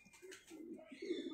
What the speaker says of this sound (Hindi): हरे चीने कबूतर